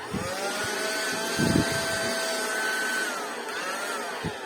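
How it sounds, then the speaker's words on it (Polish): A small vacuum cleaner, found while unboxing parcels of workshop items, runs nearby with a constant motor whine for the whole stretch, punctuated by a few soft bumps and handling knocks. "O, tutaj taki odkurzacz fajny."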